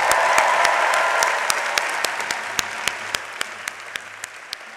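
Applause from a law school commencement audience for the graduating class, loud dense clapping at first that thins out to scattered, individual sharp claps spaced in a loose rhythm.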